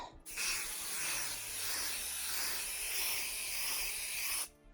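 A steady aerosol spray hisses continuously for about four seconds onto quilt fabric, close and fairly loud, starting and stopping abruptly.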